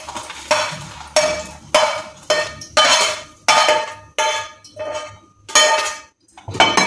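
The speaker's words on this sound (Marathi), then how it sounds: "हीच कढई ठेवायची, त्यामध्ये थोडंसं तेल आहे" A metal kadhai and other kitchen utensils clatter and clank in a quick series of sharp, bright knocks and scrapes as the pan is handled and set down. The sounds are close and there is no speech.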